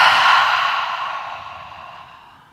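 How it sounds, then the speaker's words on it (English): A single deep, breathy exhale through the mouth during a yoga flow, close and airy, fading steadily over a few seconds, with no talking. "Deep breath in through the nose. Deep breath out through the mouth."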